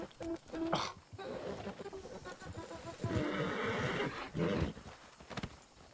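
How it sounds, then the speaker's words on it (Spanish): Horse neighing in the RedM video game, a couple of loud whinnies with clip-clop hoof steps close by, the strongest whinny in the middle of the stretch. "el caballo es bonito"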